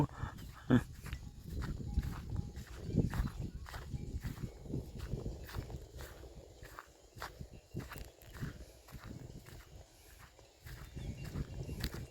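Cattle and water buffalo being driven along give a steady shuffle of hooves and footsteps at a distance, with scattered knocks and rustling over a low rumbling background.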